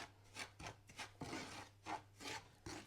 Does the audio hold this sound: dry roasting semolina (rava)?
yes